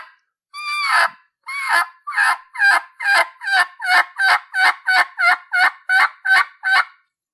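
A diaphragm mouth call imitating a turkey yelps in a quick, even series of about fifteen short raspy notes after an opening drawn-out call, close and loud with no talking.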